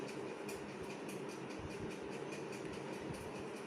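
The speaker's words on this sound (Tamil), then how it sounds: "ஸோ வாங்க ரயில் ரஷ் யூஸ் பண்ணுவோம்." A steady rumbling train roll with faint rhythmic clicks, the Rail Rush ability in a mobile battle game, playing continuously at moderate level with no talk over it.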